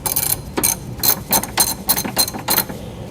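A ratchet tightening subframe and shock bolts during a coilover install on a car, heard as a loud, close rapid clicking in repeated bursts, without talking.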